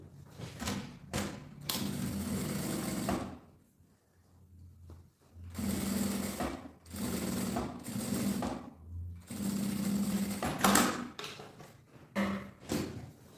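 A sewing machine stitches a messenger bag strap in several bursts of rapid, steady mechanical chatter, separated by short quiet pauses and occasional thumps as the fabric is handled.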